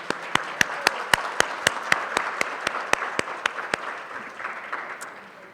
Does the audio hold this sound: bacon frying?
no